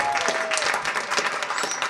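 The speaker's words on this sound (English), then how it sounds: "Clap it up if you're drinking tonight." Comedy special audience clapping and cheering in a dense, continuous burst at close range, with no talking over it.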